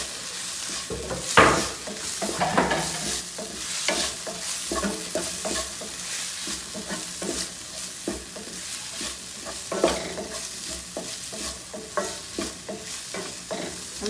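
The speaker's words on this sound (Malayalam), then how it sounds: "ഉള്ളി, ഇഞ്ചി, വെളുത്തുള്ളി, പച്ചമുളക് എല്ലാം വാടി അതിലേക്ക് ഞാൻ 2 തക്കാളി ചെറുതായി മുറുക്കിയത് ഇടുന്നുണ്ട്." Onion, ginger, garlic, green chilli and chopped tomatoes sautéing for a chicken liver roast, a close steady sizzle broken by repeated scraping stirs of a spatula against the pan, with no talking.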